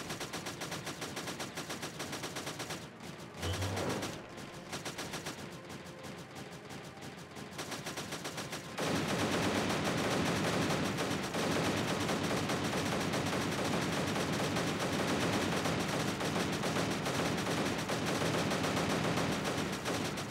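Game guns in Creeper World 3 fire in continuous rapid bursts, sporadic at first and then a sustained dense barrage of steady machine-like shots, loud with no talk.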